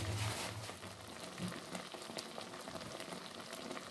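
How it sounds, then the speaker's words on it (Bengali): Spinach boils in a pot, giving a quiet, continuous bubbling and simmering hiss close by with no talk. "আমি এখানে পালং শাকটা সিদ্ধ বসিয়ে দিয়েছি।"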